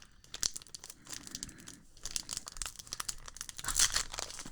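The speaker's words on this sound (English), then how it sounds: "We're gonna do a live unwrapping." A limited-edition foil trading card pack being torn open by hand, with bursts of crinkling and ripping plastic foil close up, rising to a louder tear near the end, with no talking.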